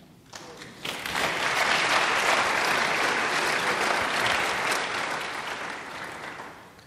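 A crowd bursts into loud, sustained applause that swells quickly, holds steady for several seconds, then slowly tapers off.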